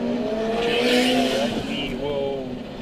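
A race car at speed in a two-hour endurance race crosses the start-finish line, its engine note rising and then falling as it sweeps past under a commentator's voice, with a faint tire squeal.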